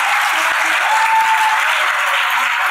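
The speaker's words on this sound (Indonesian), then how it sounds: "Kita aplaus dong untuk kebanggaan kita ini" Audience applause at a university campus orientation event, a steady sustained wash of clapping from a large crowd filling the whole moment without pause.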